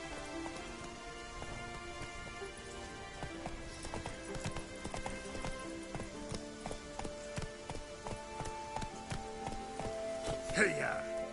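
Roach, a horse in The Witcher 3: Wild Hunt, gallops in a rhythmic steady clip-clop of hooves under rainfall and music, with a brief shout near the end.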